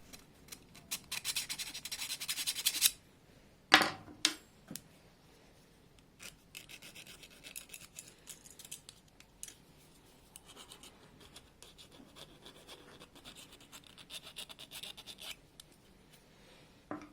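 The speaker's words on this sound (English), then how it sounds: "I always start by filing the ends to make sure they're flat and there's no burrs." A hand file rasps across the cut ends of steel brake pipe on a Triumph TR7, a dense burst of scraping strokes followed by a sharp knock and then quieter intermittent filing, close up with no talk.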